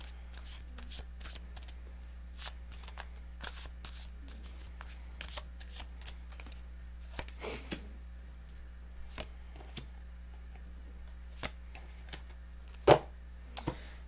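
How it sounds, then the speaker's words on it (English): Tarot cards being shuffled by hand for a long stretch, a steady patter of soft riffles and taps with occasional sharper snaps, close and fairly quiet. "2 shuffles."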